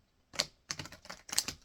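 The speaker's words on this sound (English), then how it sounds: "Let me shuffle it one more time" A small tarot-style deck of cards riffled in three quick crisp bursts of rapid flicking, close and clear, with short silences between them.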